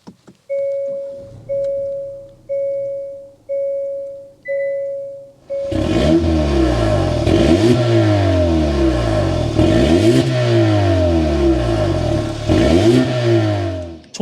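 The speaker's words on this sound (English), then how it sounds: "start it up, so you can hear that exhaust note" A 2024 Hyundai Sonata N-Line sounds out: a chime pulses five times, then the engine fires and its exhaust rises and falls through a series of loud, close revs, each sweep climbing and dropping back to idle.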